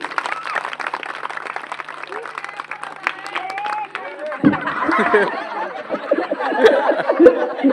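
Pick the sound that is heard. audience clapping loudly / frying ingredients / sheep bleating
audience clapping loudly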